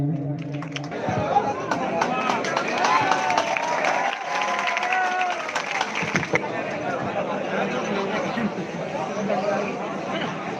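An audience claps loudly in sustained applause at the final round of the Horiyan Peepar bhajan singing competition, dense and continuous with crowd chatter mixed in.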